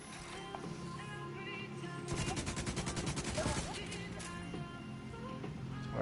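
An RPK machine gun fires in Tom Clancy's The Division 2, a rapid burst of a dozen or so sharp cracks in quick rhythm rising over quiet game ambience, with a few isolated shots around it.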